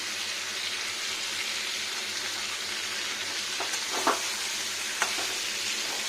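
Onions and green chilies frying in a pan for chicken kosha make a continuous soft sizzle, with a few sharp clicks of a utensil stirring near the end and no voices.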